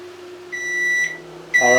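Kitchen oven timer sounds two electronic beeps, a longer tone then a short one, as it is set, with a steady low appliance hum underneath.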